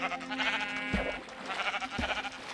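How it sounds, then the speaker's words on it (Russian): A black sheep in Minecraft bleats in a long, wavering call, followed by a short thud and a second bleat, close and clear with no talking. "О, черная овца."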